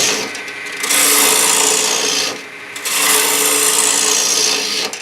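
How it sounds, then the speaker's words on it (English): A gouge carving out the inside of a wooden bowl, steady close rasping scrapes in long strokes with short pauses between them. "I can just start out with my gouge and just start taking out sections of the inside of that bowl"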